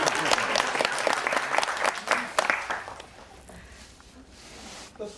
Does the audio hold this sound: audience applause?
yes